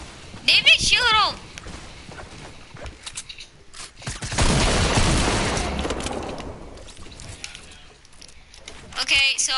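Gunfire in a video game, a burst of loud rapid shots roaring for a couple of seconds amid scattered clicks and mechanical sounds, with players talking around it.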